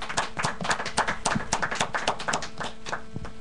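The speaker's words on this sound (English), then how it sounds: "Once again, let's give him another round of applause." Studio audience applause during a radio interview, a steady patter of many hands clapping at moderate distance, fairly faint and even throughout.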